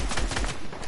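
Quick burst of video game gunfire, a few loud close shots in rapid succession lasting under a second.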